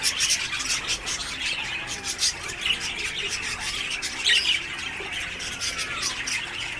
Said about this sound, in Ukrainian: Привіт, папуга.